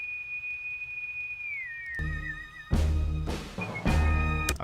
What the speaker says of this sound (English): Let me see this original whistle.